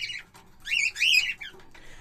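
Bright, squeaky chirps and warbles from a small silver rainbow budgerigar, close and fairly loud, in a short chattering burst with brief pauses.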